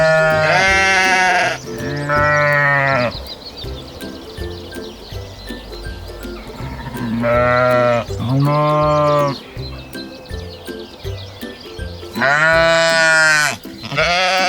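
Sheep bleat loudly and close by, about five long wavering calls arriving in separate bursts, with quieter farmyard background filling the gaps between them.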